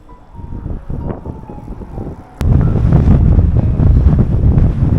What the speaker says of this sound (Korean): 바다 쪽으로 나가는 구간은 지금 바람 소리처럼 바람이 엄청 강합니다.